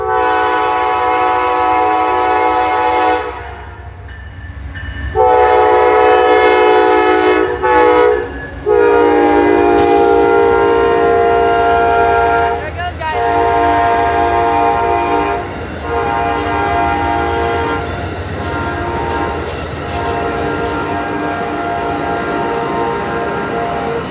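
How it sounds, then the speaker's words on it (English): Amtrak 98, the Silver Meteor passenger train bound for New York, sounds its horn in long, loud, close blasts with short breaks as it rolls past in Folkston, Georgia, over steady rail rumble and wheel clatter. "Amtrak 98 Silver Meteor to New York."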